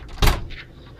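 A single loud knock or thud at a house door, one sharp impact followed by a couple of fainter taps in a quiet room.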